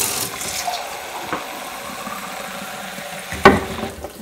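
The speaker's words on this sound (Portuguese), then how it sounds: "E agora é água morna. Então eu vou ter que ligar aqui." Warm water runs from a kitchen tap while a cake is being prepared at home, a steady close splashing stream that ends in a brief louder gush near the end, with no voices.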